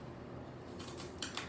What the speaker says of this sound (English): we're going to cut strips into our cardboard